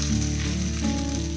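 Dosa cooking in a hot pan just after oil is added, giving a steady close sizzle with a constant low hum underneath, no voices.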